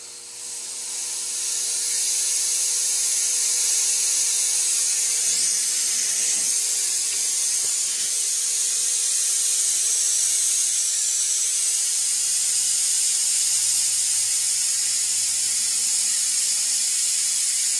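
A continuous high hiss of a motorized sprayer pumping fluid, with a low mechanical whir underneath; starts quietly, then holds steady and loud, no speech.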